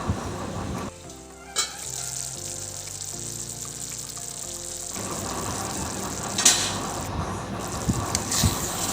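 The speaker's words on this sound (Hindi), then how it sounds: "इसे सब्ज़ी को चला लेते हैं एक बार अच्छे से।" Chana dal pakode curry is stirred in a pan, with a steady sizzle and frying hiss throughout, punctuated by a few scraping clinks of the spoon against the pan, close and moderately loud.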